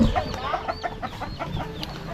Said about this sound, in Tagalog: Pakain ulit kami ng manok.